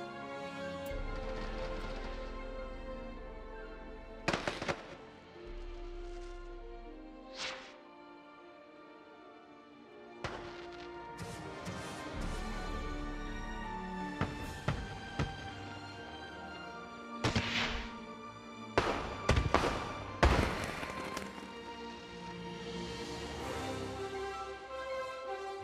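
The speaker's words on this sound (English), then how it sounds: "Fireworks time." Fireworks in the theme-park game Planet Coaster launch and burst in a show, with sharp booming explosions arriving in irregular clusters over a low background of music, some blasts loud and close, others softer.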